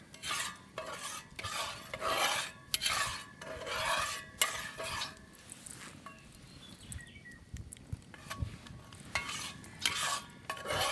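A dark roux for Cajun gumbo being stirred over a hot fire, rhythmic rasping scrapes of the spoon across the pot bottom, repeated steadily and close, fading to softer scraping and faint sizzle toward the end.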